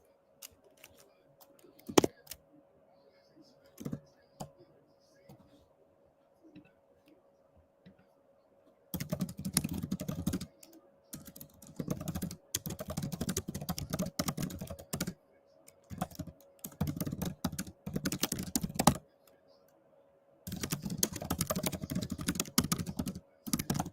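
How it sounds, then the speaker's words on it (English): Typing on a computer keyboard during a live basketball watch-along stream: bursts of rapid, close clicking separated by pauses, starting sparse and growing into dense, steady keystroke runs. "I'm answering a lot of questions by typing them in."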